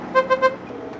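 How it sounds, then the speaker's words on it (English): Horn of a Honda kei car giving three short, bright toots in quick succession, thin and high-pitched like a bicycle horn, followed by quiet background. "Bicycle horn."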